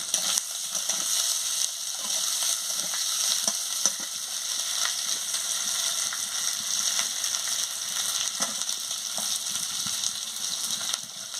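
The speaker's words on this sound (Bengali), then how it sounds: "মশলার সঙ্গে কষিয়ে নিচ্ছি" Potatoes and soya chunks for a curry are sautéed with spices in a pan, sending up a steady close sizzle with occasional stirring scrapes and no talking.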